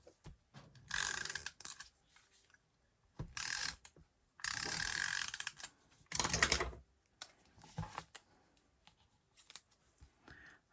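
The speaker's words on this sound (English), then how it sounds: "Let's use the tape runner." Tape runner clicking and ratcheting as adhesive is rolled onto cardstock layers for a handmade card, in several short bursts of close, crisp mechanical clicking separated by quiet pauses.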